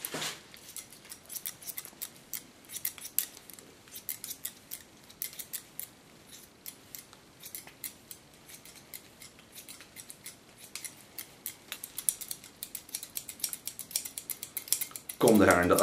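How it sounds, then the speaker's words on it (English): Thinning scissors snip repeatedly through thick hair during a haircut, a steady run of close, crisp metallic clicks and shears throughout, with a louder handling noise at the very end. "she has very thick hair, so I can thin it out afterwards to create more air into the hair"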